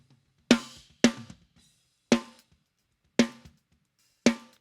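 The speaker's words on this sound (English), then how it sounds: "And so with that, snare sound like this." Five crisp snare drum hits with an EQ boost for body and crack, spaced unevenly and standing alone, each with a punchy attack, a bright rattle and a short ringing decay.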